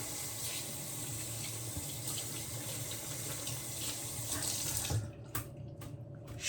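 A shaving brush is rinsed under a running tap, with water splashing steadily into a sink for about five seconds before it cuts off and a few drips and clatters follow. Nobody talks.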